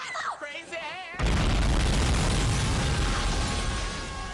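A bomb goes off in a Dragon Ball Budokai Tenkaichi fighting game: after a brief stretch of voices, one sudden loud blast breaks into a dense, sustained roar that fills the rest of the moment.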